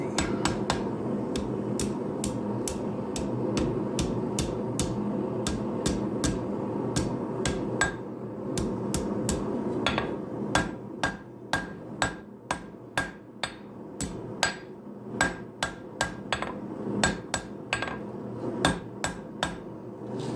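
A blacksmith hammers hot steel stock while forging knife-making tongs, a long run of sharp ringing blows, at first quick over a steady low hum and then slower and more spaced, close and alone without talk.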